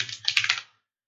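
Short burst of typing on a computer keyboard as a server start command is entered, about half a dozen quick close keystrokes that then stop into silence.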